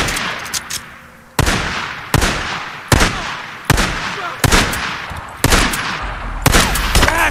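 Sharp gunshots ring out in the zombie survival game Days Gone, about seven loud cracks spaced roughly one per second, each decaying quickly, with faint speech nearby.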